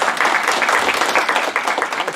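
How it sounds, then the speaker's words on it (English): An audience at an education lecture claps to welcome Dr. Anthony Ocampo to the stage, a close, busy burst of many hands at even intensity for a couple of seconds. "Please welcome, with a big round of applause"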